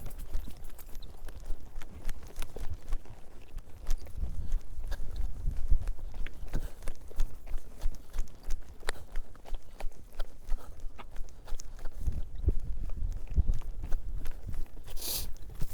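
Horse hooves walk in a steady clip-clop rhythm on a ride outside the arena, close and fairly loud, with light rustle and gear noise around them and no talking.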